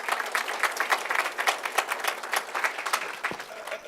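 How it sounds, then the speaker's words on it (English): An audience at a university sesquicentennial celebration applauds, with many hands clapping in a lively, uneven patter that stays loud and near before thinning slightly toward the end. "So we give all of them applause for being here."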